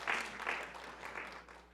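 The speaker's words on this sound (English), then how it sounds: "you can applaud that" Brief burst of audience applause in a classroom talk setting, a few seconds of clapping that swells early and then thins out, with no one speaking over it.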